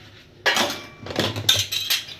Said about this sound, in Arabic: واحط نقطه صابون تاني ونبتدي ان احنا نغسل المعالق